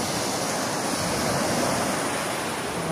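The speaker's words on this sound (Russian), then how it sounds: "Вот оно море." Sea waves wash steadily onto a beach on the Indian Ocean coast of Thailand at night, a few steps from a campfire, heard as a continuous, fairly loud roar of surf with a windy hiss and no clear breaks.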